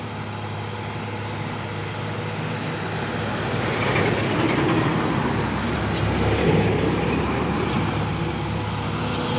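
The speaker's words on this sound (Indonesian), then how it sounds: "ini juga ada satu nih truk Puso engkel membawa apa ini, buah kelapa sawit" A Mitsubishi Fuso single-axle truck loaded with oil palm fruit rolls past on an Indonesian road. It gives a steady, loud rumbling drone that swells slightly midway, with no talking.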